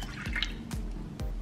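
Cold milk, about 150 millilitres, poured into a bowl for a chocolate trifle mousse mix, heard as a close, steady liquid pour with a few splashy drips breaking through.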